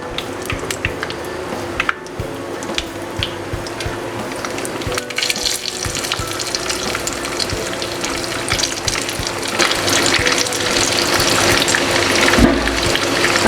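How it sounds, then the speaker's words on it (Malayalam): Chicken pieces dropped into hot oil on high flame for KFC-style fried chicken, giving a steady close bubbling sizzle with wet crackles throughout, with no talking. "ഇതിലേക്ക് ഞാൻ ചിക്കൻ ഇടുവാണ്."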